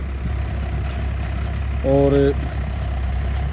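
A Farmtrac 60 tractor on 14-inch tyres runs steadily with a rotavator working about five inches deep, a continuous low engine drone throughout, briefly joined by a short tonal hum, with a voice speaking over it.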